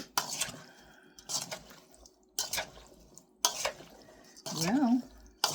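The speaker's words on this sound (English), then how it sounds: "veggie and sausage mixture. Mix that up real good." A spoon works through a veggie and sausage mixture for swamp potatoes, giving several short wet scraping and clattering bursts at a steady pace, fairly close, with a brief tonal squeak near the end.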